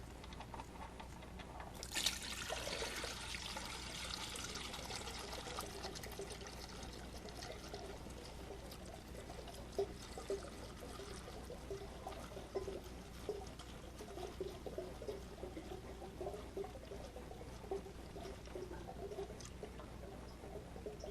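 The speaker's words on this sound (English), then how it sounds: "now while your oil is draining" Motor oil draining from the oil pan of a 2011 BMW 550i, a faint, continuous trickling pour running steadily throughout with no talk.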